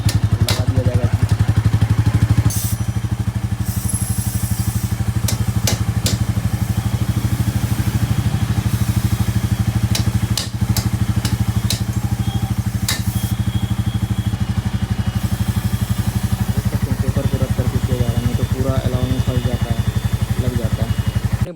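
A Royal Enfield Classic 350 motorcycle runs at idle, close by and steady, with a low rhythmic engine thump that holds throughout amid occasional clatter and mechanical knocks.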